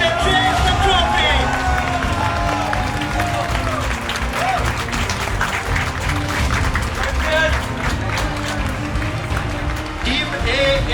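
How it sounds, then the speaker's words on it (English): A large crowd at an esports national final applauds continuously for the trophy winners, dense clapping mixed with cheering and murmuring voices, steady and loud throughout. "I want you all to give a huge round of applause as they take the trophy"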